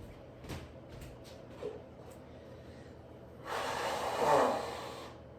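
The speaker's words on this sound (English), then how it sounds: "I have to blow my nose" A few faint sniffs and clicks, then a single loud, breathy blow of a stuffy nose lasting about two seconds, close to the mic.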